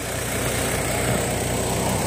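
A 4.2-litre Vortec engine in a 2002-2009 Chevrolet Trailblazer with 128,000 miles idles smoothly, a steady close hum with a constant high whine and no variation in pace.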